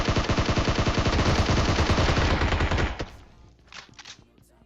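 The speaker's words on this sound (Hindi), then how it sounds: "गोलियां अलग अलग जगह से चल रही है" Rapid, loud bursts of automatic gunfire from an M762 rifle in PUBG Mobile rattle continuously for about three seconds, then stop, leaving faint scattered sounds.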